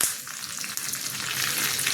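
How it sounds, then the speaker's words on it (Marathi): Mustard seeds, cumin and curry leaves sizzle in hot oil for a Marathi-style tadka, a steady, bright crackling hiss that holds close and loud for the whole stretch with no pause. "त्याच्यात मी आता तडका देते. थोडीशी मोहरी घालते याच्यात, थोडंसं जिरं, कढीपत्ता घालते थोडा"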